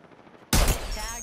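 Video game gunfire in a Season 14 battle royale match erupts suddenly as a loud, dense burst of automatic shots after a quiet lead-in, then rings on with a sustained, ringing tail.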